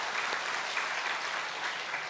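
Congregation applause for a church choir at an early-morning New Year prayer service, a steady, even round of clapping from a large room, moderately distant and alone.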